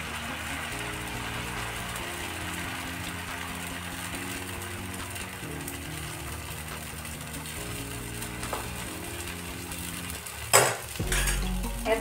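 Fasting-day dosa batter sizzles on a hot oiled griddle, a steady soft frying hiss throughout with a sharp utensil clatter near the end.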